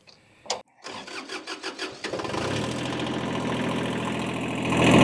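A diesel tractor engine cranks with a run of rapid starter pulses, then catches and settles into a steady, loud, rumbling idle that swells slightly at the end; no one talks.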